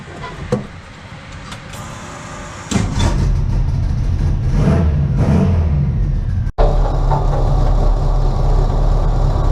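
Turbocharged Volkswagen Bug sand car engine revving and accelerating during a ride, recorded close with loud rising and falling throttle surges and a momentary dropout before the roar resumes.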